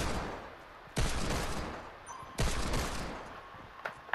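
Video game gunfire: two loud, sharp blasts about a second and a half apart, each followed by a fading crackling tail, then a fainter shot near the end, with no talking.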